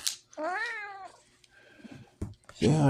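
An old pet cat meows twice close by, a long wavering meow followed later by a shorter one, with faint rustling in between.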